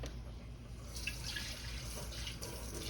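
Tap water running into a container to rinse out the last of a beef base while making beef stock, a quiet steady flow with faint splashing and drips.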